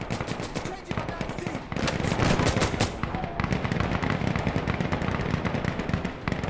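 Heavy automatic gunfire in Insurgency: Sandstorm, loud rapid bursts of rifle fire pounding nearly continuously, with a voice talking briefly over the shooting.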